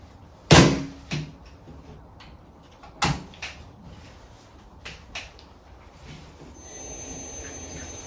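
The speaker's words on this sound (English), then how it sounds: "I've got out my pre-weighed clay and I'm going to throw it onto the bat" Pre-weighed damp clay slapped down onto a pottery wheel bat, one sharp loud thud near the start, then a second impact a few seconds later, followed by quieter handling knocks and a low steady hum.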